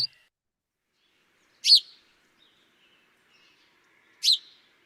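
Two isolated sharp sparrow call notes, a few seconds apart, clear and close against near silence.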